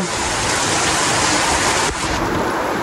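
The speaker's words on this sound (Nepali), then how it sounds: "यहाँ खतरा पानी परिरहेछ" Heavy rain pours down steadily outdoors at a park, a dense, loud, unbroken hiss of water on surfaces lasting the whole stretch, with no voices.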